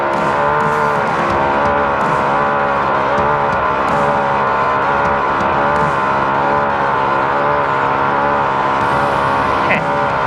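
An in-car 1999 Pro NA desert race car is held at wide open throttle during a SNORE RATR race, its engine roaring loud and unbroken up close with a thick, steady harmonic buzz the whole time.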